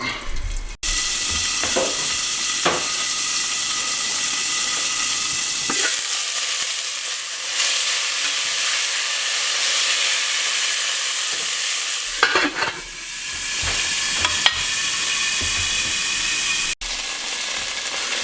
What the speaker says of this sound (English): Put them in over medium heat, maybe a little more, and just let them brown up.